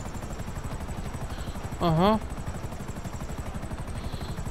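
A helicopter in GTA 5 Online hovers close with a steady, loud rotor chop that pulses evenly throughout, while a player briefly speaks and murmurs over it.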